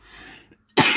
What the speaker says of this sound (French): Excusez-moi, mais je tousse.